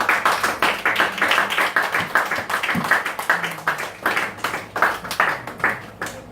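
A church congregation claps in a steady rhythmic beat, many hands together, loud and close, with a few voices faintly underneath.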